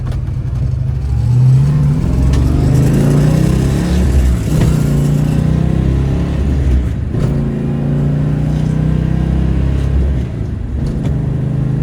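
A 1973 Dodge Charger SE 400 with a four-speed manual revs up loudly and repeatedly, pitch climbing then dropping as it shifts through gears, close and continuous with no talking.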